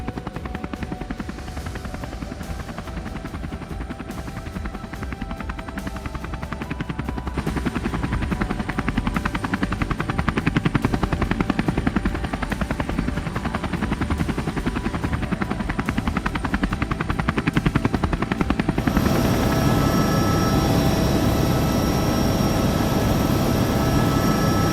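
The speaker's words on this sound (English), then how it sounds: "So let's board this helicopter." Continuous loud rotor and turbine noise from a helicopter in flight over the Kalahari, heard from inside the cabin, with the pitch and roar shifting partway through as it climbs or changes power.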